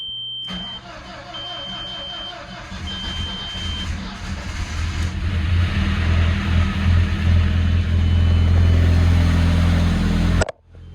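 An Audi 1.8T engine being rebuilt cranks and fires up on its first start try after the fuel pump is primed, then runs with a rising, steady idle roar, while warning beeps chirp early on, before cutting off abruptly.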